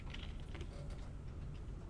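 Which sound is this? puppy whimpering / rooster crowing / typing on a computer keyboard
typing on a computer keyboard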